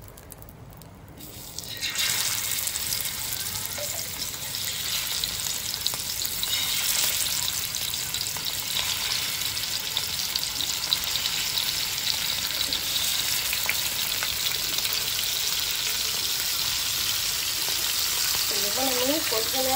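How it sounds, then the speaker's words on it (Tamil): Fish hits hot oil in a clay pot, a loud close sizzle that bursts in after a short quieter start and holds steady, crackling throughout with no speech. "இப்போ வந்து நம்ம பேச்சாளர் மீனை போட்டுக்கிறலாம்"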